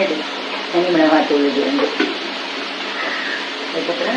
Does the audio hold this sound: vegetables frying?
yes